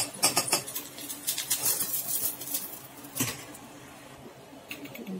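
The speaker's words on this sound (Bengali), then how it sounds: "এইভাবে ডিমগুলো সব ভেজে নেবো।" Eggs fry in a pan with onion for an omelette curry, giving a close, continuous crackling sizzle with bright spattering pops that is loudest at the start and then settles.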